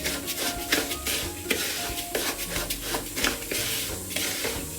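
Seeds being stirred through olive oil in a pan for Moroccan couscous with meat and vegetables: close, repeated scraping strokes in a steady rhythm over a soft sizzle, with no talking.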